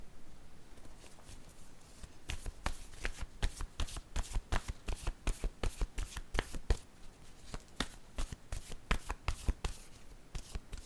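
A deck of cards is shuffled for a tarot-style reading, a quiet run of rapid riffles and flicks in a steady, uneven rhythm, close by, with no talk.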